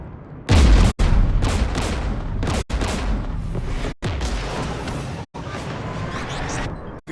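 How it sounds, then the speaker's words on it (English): Heavy anti-aircraft gunfire from Geth guns beside a jamming tower in Mass Effect 3, loud sustained booming bursts broken by brief gaps, dense and close, with no talk. "We're taking fire."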